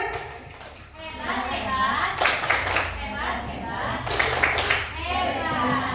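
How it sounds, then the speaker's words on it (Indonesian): A group of teachers in a workshop session performs a rhythmic patterned clap cheer, sharp bursts of hand claps in bouts, mixed with voices chanting and talking. "Tepuk hebat."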